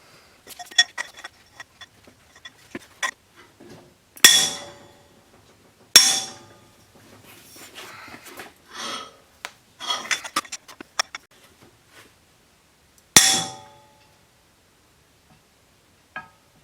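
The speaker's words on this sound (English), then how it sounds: "I'm going to go ahead and finish removing the rest of these bolts so we can get this head off" Bolts being loosened and removed from a Subaru EJ20 engine cylinder head, sharp metallic clinks and ratchet clicks in irregular bursts with a few louder clanks and quiet gaps between, close up.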